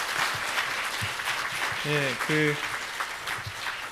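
An audience applauds after a keynote speech by a judge, a steady wash of clapping throughout, while a voice speaks briefly over it.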